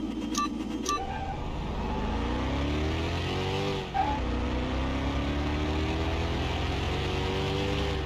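A supercharged hot rod racing in Car Mechanic Simulator 2021, its engine droning loud and close with rising and falling pitch as it shifts through gears, a brief dip midway, with faint tire squeal and no talking.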